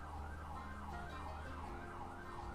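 Wailing ambulance siren in GTA 5, with a rising and falling tone that repeats steadily, heard alongside a constant low road rumble.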